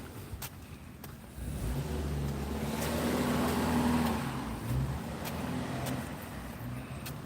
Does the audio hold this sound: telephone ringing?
no